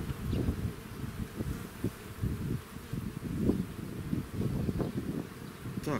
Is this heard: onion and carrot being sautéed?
no